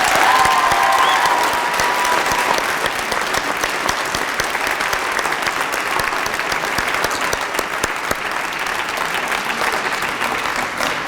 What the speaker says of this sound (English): if we can just have one last round of applause for our wonderful student performers tonight